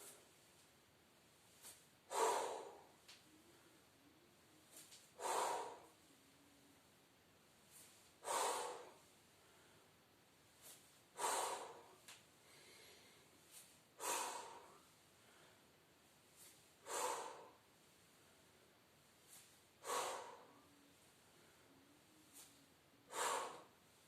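Gentle exhalations during a light exercise session, eight soft breaths out spaced about three seconds apart, close and quiet with no talking.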